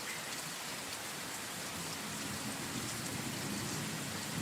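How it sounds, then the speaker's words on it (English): Heavy rain pours steadily on a dark night, a dense continuous hiss of drops drumming on surfaces with no break and no voices. "it's dark and it's pretty heavily raining"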